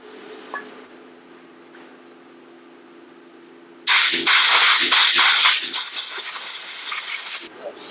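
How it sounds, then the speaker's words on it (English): Brake cleaner and compressed air blast into an off-road shock body during a rebuild, bursts of loud hissing spray that start abruptly after a quiet stretch and come in several close, uneven pulses. "let's clean that out with some brake cleaner and air."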